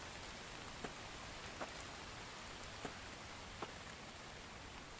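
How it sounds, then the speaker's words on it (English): Continuous rain hiss in the survival game The Infected, soft and even, with a few faint drip-like ticks spaced a second or so apart. "Maybe I should get out of the rain."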